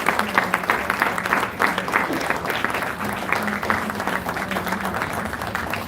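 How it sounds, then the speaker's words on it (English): A festival audience at an Indian classical music event bursts into sustained applause, a dense, steady wash of many hands clapping throughout. "A big round of applause for our talented artists once again."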